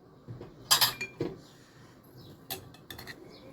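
A large spoon scoops a freshly chopped spice and herb mixture from a cup for stuffing mackerel, giving a few close metallic clinks and scrapes, a brief cluster early and lighter taps later, with no talk.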